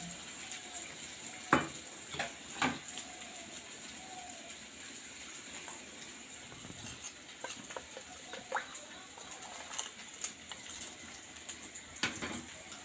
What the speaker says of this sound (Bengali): রসুন কুচিও দিয়ে দিলাম। পেঁয়াজটা ভাজা ভাজা হোক।